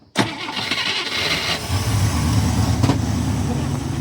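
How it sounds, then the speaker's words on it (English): A 1965 AMC Ambassador with no muffler cranks and fires up, the engine catching quickly and settling into a rough, loud, rumbling idle close by, with a brief sharp rise partway through. "Start her up again."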